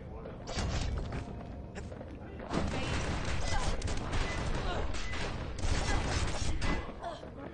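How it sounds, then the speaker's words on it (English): Dense rapid gunfire and impact hits batter the player in a first-person shooter game, a loud continuous barrage that surges twice, with a voice talking over the shooting. "God, stop shooting me."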